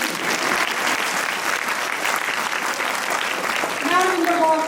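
An audience at a school's senior annual function applauds with loud, sustained clapping that fills the whole stretch, and a voice starts speaking over it near the end.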